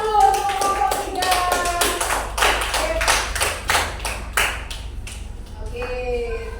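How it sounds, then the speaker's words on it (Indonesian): Classroom clapping as students applaud a presenting group, a string of sharp, irregular hand claps from a small group, close and fairly loud, with some voices in the background. "Tepuk tangan dulu untuk kelompok 3."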